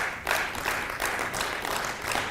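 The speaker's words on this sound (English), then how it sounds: "They deserve a round of applause." Applause rises in a legislative house chamber during a sitting, a broad wash of many hands clapping at moderate distance, steady and sustained without clear individual claps.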